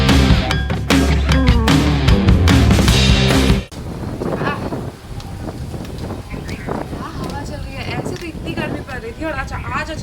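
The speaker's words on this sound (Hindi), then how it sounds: "आज अचानक से एकदम भयंकर ही टाइप की हवा चल रही है" Strong wind blows across a rooftop terrace garden, first buffeting the microphone in a loud, rough roar, then easing to gusty rustling while someone talks.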